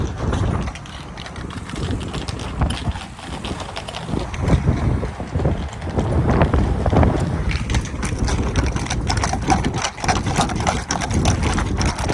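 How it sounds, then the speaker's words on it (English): Horses of mounted police officers at a political rally clop in steady hoofbeats amid loud, continuous crowd and traffic noise, with an engine rumbling underneath. "Even the horses came out to play."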